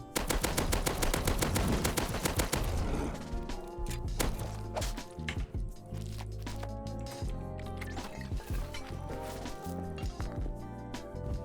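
Pistol gunfire in the video game Rust as a vendor is shot, a rapid burst of loud sharp shots packed together at first, then scattered impacts and clatter under game music, with no talking.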